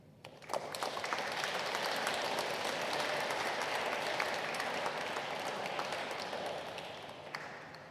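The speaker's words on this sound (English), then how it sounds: "Easy on the applause, please." Sustained audience applause at a poetry anthology launch night, a dense wash of many hands clapping that swells quickly, holds steady for several seconds, then begins to fade.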